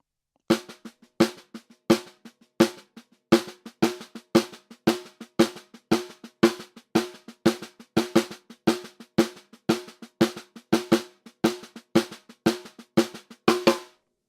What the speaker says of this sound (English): You can also play 16th notes and accent in triplets as well